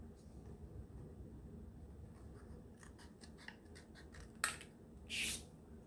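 Scissors cut through watercolor paper in a string of small snips, faint and close, followed by a couple of louder crisp cuts near the end above a steady low room noise.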